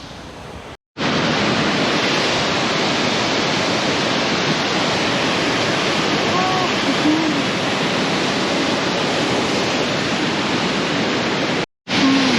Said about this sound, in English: Still by the waterfall.